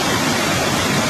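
Water rushing over the fifty-gated Zefta weir falls in Egypt, a dense, loud, unbroken roar with no pauses.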